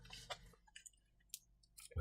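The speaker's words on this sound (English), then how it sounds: "So we'll take these LEDs out." Small LEDs being pried out of a warning-cone flip-flop circuit with a fingernail give a few faint, close, scattered clicks and light scratches in near silence.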